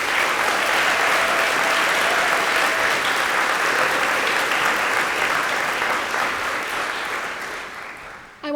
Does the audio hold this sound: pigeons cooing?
no